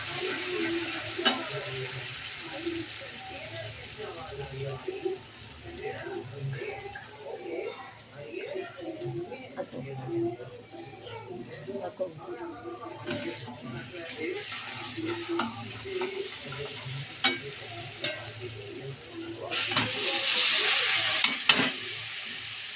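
Sprouted moong and matki being sautéed in oil with salt and turmeric for a Marathi usal, with a steady soft sizzle and repeated scraping stir strokes, plus a louder hiss near the end.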